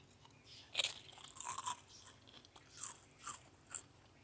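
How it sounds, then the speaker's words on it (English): Crispy-edged flatbread bitten and chewed, giving a series of sharp, close crunches in irregular bursts, loud against a quiet room with no talking. "Can you hear that crunch?"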